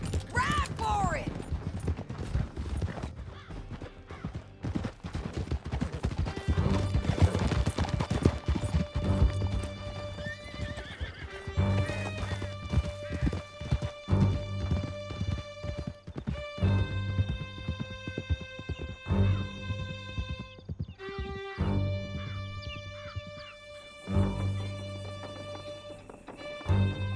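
Horses gallop in Red Dead Redemption 2, rapid hoofbeats drumming steadily under a tense game score, with whinnies, mechanical clatter and occasional voices in the mix.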